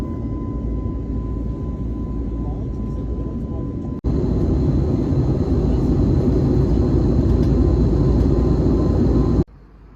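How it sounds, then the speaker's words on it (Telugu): Airplane cabin noise at cruising altitude, a loud steady low roar of engines and airflow that jumps louder partway through and drops back near the end. "ఫ్లైట్ వచ్చేసి ప్రజెంట్ మ్యాక్సిమం హైట్కి రీచ్ అయిందంట."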